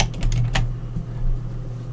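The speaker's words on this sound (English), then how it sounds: "I can just type in a new one." Keys tapped on a computer keyboard to enter a new profile name, a quick run of about six close clicks in the first half-second, then only a low steady hum.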